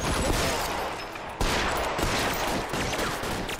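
Assault rifle gunfire in the VR detective game LA Noire VR: dense, loud volleys of rapid shots, with a brief break before another sustained burst.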